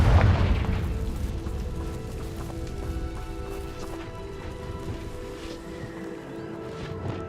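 Confringo blasting curse explosion in the video game Hogwarts Legacy: a loud, deep boom at the start that decays into a lingering rumble, with steady tonal game music and ambience continuing beneath.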